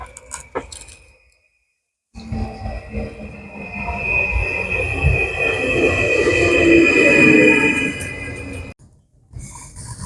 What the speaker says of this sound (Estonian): vaatame, kus see rong meil siis tuleb.